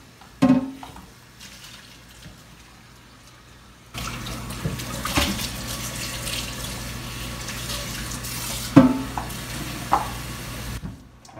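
Water runs and splashes while a French press is rinsed out, a steady wash of pouring and swishing that swells after a quiet start and continues at close range with a few sharper clinks.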